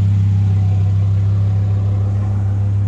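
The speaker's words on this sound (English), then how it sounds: "what we're having here is a twin turbo Lamborghini" A twin turbo Lamborghini Huracan runs with a loud, steady low engine drone close by, holding an even idle-like tone throughout with no speech.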